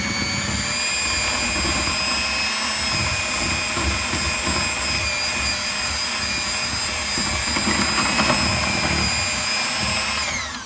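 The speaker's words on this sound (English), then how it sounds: "All right, so I'm gonna turn on the mixer." An electric mixer runs at slow speed, mashing purple potatoes in a bowl with a steady, loud, continuous motor whine that holds throughout.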